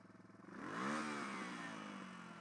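A Suzuki DR200 motorcycle engine revs up sharply, holds a high whine, then slowly falls back toward idle, heard fairly close with no talking.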